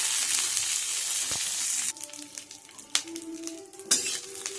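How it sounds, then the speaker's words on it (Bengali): Shredded cabbage fries in a hot pan at home, a steady close sizzle with a few clinks and scrapes of a spoon stirring against the pan toward the end. "আগে একটু কপিটাকে ভেজে নেবো, কপিটা কাছে সময় লাগে।"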